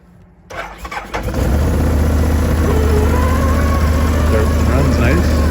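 A 2013 Can-Am Outlander 650 Max ATV with 5,131 km on it cranks, catches and settles into a loud, steady idle, close by, with a little background movement before the start.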